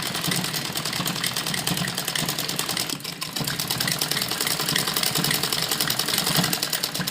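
Sewing machine running fast while stitching a V-shape umbrella frock, a loud steady rapid chatter of the needle with a brief slowdown partway through before resuming at full speed.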